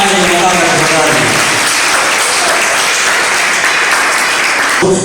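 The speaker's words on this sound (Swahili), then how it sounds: "Makofi kwa Ali Mwakaga tafadhali" Loud sustained applause from a concert audience for a performer named Ali Mwakaga, dense and continuous throughout, with a voice heard over the opening moments.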